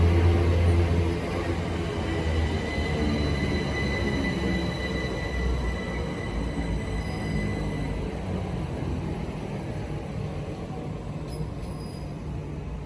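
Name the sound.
Great Western Railway train passing through station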